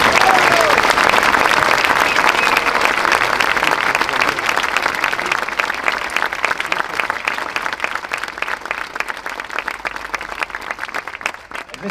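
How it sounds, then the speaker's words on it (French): An outdoor crowd in Saint-Raphaël gives loud, sustained applause for the French Foreign Legion band, clapping fading gradually over twelve seconds as a voice speaks beneath it. "Applaudissements pour la Légion étrangère."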